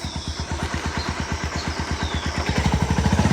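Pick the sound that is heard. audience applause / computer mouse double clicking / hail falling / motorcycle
motorcycle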